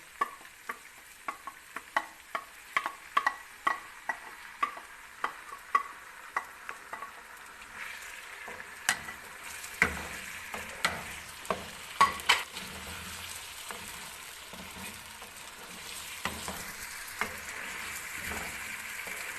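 Spoon or spatula stirring tomato ketchup into chicken jalfrezi in a pan, a steady run of sharp scraping clicks over a soft sizzle, busier early on and then more spaced, with no talk.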